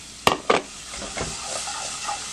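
Minced garlic and onion stir-fry in a pot over low heat, giving a soft, close hiss and sizzle with a couple of sharp clinks of a utensil against the pot near the start.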